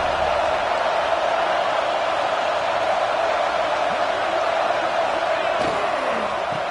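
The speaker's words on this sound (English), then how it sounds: "this big crowd doing everything possible to inspire this defense down here near the goal line" A big stadium crowd at an Ohio State vs Notre Dame football game roars continuously and loudly, a dense wash of cheering near the goal line with a few sharp thuds and shouts rising from it.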